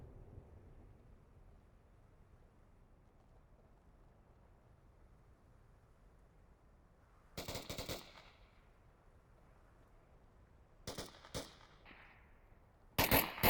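Gunfire in the VR shooter Onward comes in a few sharp bursts over quiet wind-like background hiss: a loud rattling volley, then two more clusters of shots, the last one close and abrupt.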